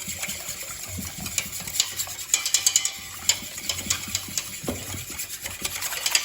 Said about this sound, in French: On va bien la fouetter.